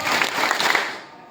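A group claps their hands together on cue during a Maulid Nabi religious gathering, a dense burst of claps that fades out toward the end, with voices mixed in.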